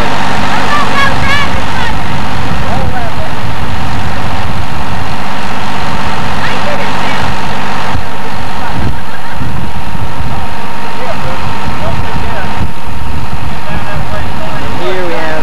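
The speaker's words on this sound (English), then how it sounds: "going to have a tractor ride" A heavy tractor engine rumbles and idles steadily throughout, with people talking over it now and then.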